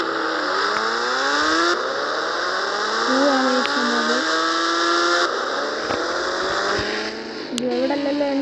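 Motorbike engine in the Indian Bike Driving 3D game, a steady droning hum whose pitch rises and falls as it revs, with a voice talking over it.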